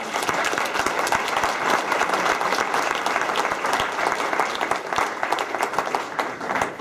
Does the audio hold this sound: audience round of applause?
yes